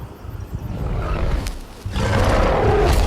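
A lion roars in an animated film scene with a gorilla and a rabbit, a loud, rough, sustained roar with grunting undertones that swells louder partway through, with no voices.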